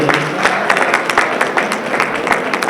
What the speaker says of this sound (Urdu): ایک دفعہ تالیاں ہونی چاہیے ان سب لوگوں کے لیے۔